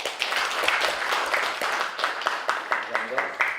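Audience applause at the close of a Korean political party's emergency debate forum, a dense patter of many hands clapping at close range throughout, steady and fairly loud with some individual claps standing out.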